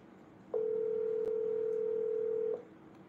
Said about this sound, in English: I'm gonna call Paul Williams.